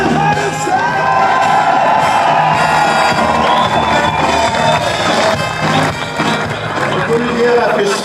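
A large carnival crowd in Peel en Maas cheers, whoops and claps loudly for the carnival prince, a dense roaring wall of voices and applause with shouts rising above it throughout.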